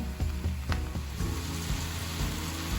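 Onion and mushrooms fry together in a pan for a vegan mushroom pâté, giving a constant close sizzle with a few scraping clicks near the start.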